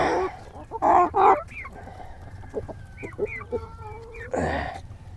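Hens cluck and squawk close by while a rooster crows loudly, mixed with scattered clucks and calls from several birds in a farmyard.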